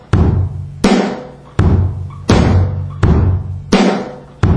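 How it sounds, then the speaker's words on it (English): Drum set with bass drum and snare drum playing a steady repeating beat pattern, six sharp hits at an even pace with ringing decay between them, loud and alone. "Well, the bass drum and the snare drum play together."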